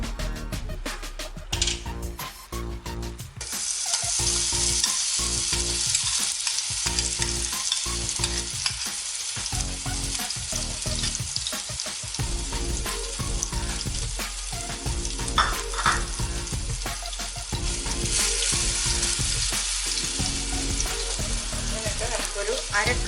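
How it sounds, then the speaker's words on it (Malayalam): Ground jackfruit frying in ghee for a sweet, stirred constantly, a continuous close sizzle with rapid rhythmic scraping of a spoon against the pan that runs throughout, no voices. "എന്നിട്ട് നമ്മൾ ഈ അരച്ച് വെച്ചിരിക്കുന്ന ചക്ക ഇട്ട് കൊടുക്കാം."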